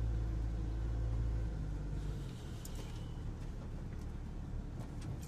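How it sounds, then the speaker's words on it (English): A 1984 Ford F150 pickup truck drives across a bumpy field, its engine a steady low rumble with rattling and jostling noise that eases slightly partway through, heard alone. "Go ahead and drive across into this field. A little bit of a bumpy ride out here."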